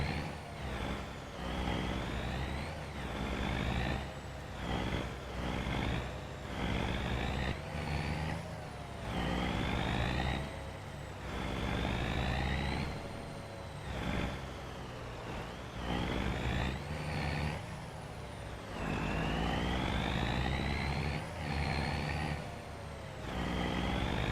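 A tractor in Farming Simulator 25 drives along a field row collecting hay bales: a steady engine drone runs throughout, with repeated rising and falling mechanical whines and clunks as bales are loaded.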